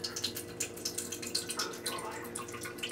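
Low sodium soy sauce trickles slowly from a bottle with its pour insert still in, giving soft irregular drips and gurgles, close and quiet.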